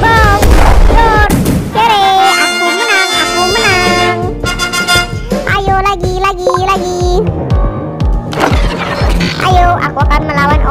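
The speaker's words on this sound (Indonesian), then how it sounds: "Aku pakai bom" Booming blasts from a bomb in a video game, loud and layered over bright game music and tones, with several hits and pops and a voice speaking in the mix.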